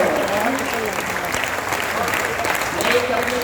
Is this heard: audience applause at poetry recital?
yes